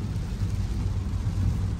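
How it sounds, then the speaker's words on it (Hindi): Heavy rain pours down steadily, with a low rumble of thunder beneath the dense, continuous patter; no voices are heard. "डॉगी जी आप कमरे में चले जो बारिश बहुत हो रही है"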